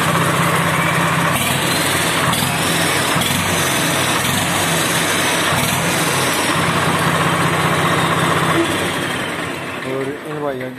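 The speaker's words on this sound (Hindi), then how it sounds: "एक बार स्टार्ट करके आवाज़ भी सुनाऊंगा ट्रैक्टर की" A turbocharged 855 tractor engine idles with a loud, steady diesel rumble close by, running continuously before easing off slightly near the end, while someone talks over it.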